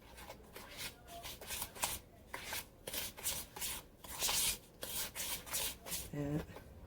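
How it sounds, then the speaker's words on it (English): Brown sugar being worked into butter in a kitchen bowl, a steady run of soft scraping, rubbing strokes repeating in an uneven rhythm, close and fairly quiet. "I'm going to mix in with that butter."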